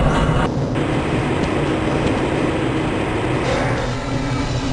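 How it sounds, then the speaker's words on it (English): Train ride in the video game Half-Life: Blue Shift, a steady loud rumble and mechanical hum of the rail car rolling along continuously with no voices heard. "This train is inbound from the Area 8 topside dormitories to the Central Transit Hub in Area 9."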